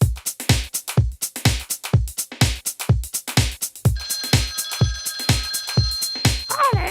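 A telephone rings in a rapid, steady pulsing pattern, loud and close, with a brighter tonal ringing layer joining partway through and no voices.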